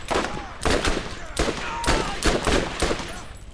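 Gunfire in the Borderlands video game comes as repeated loud shot bursts roughly every half second, punchy and close, with a faint voice in the background.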